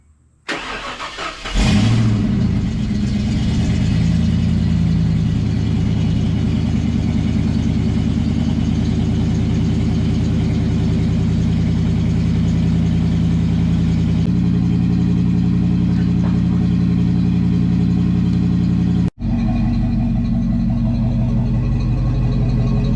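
A car engine started after sitting unused for five months settles into a loud, steady idle with an even low rumble, heard close and alone, with a brief cut near the end.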